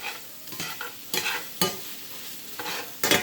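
Sliced steak, peppers and onion tossed and mixed in a hot pan, with several distinct scraping stir strokes spaced about half a second apart over a soft sizzle, close up and with no voices.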